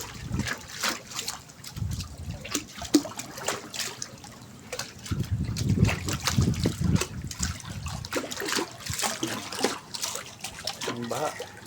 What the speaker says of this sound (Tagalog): Sinakop na ng tubig.